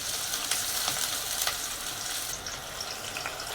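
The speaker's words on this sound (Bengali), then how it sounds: "এখন আমি পাতিলে তেল দিয়ে দিলাম, পেঁয়াজ দিয়ে দিলাম" Onions sizzling and frying in hot oil in a cooking pot, a steady broadband hiss with occasional crackles and pops, fairly close and continuous throughout, with no talking.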